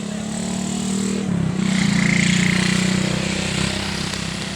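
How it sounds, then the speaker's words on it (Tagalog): Unregistered motorcycles passing at an overlook, their engines droning steadily and close by, swelling louder midway as they go past. "Mga motor na walang rehistro."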